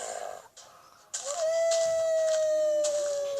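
A dog lets out a long, sustained howl close by, holding one drawn-out tone that slowly falls, following a few shorter, breathy whines.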